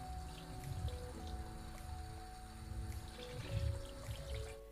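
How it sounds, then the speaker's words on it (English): Water slowly poured over a compressed coir block sitting in a bucket, giving a soft continuous trickle and drip, faint and close, with steady tonal hum underneath and no talk. "I'm going to put my block of coir, and I'm going to slowly add some water to this and just let this soak it in."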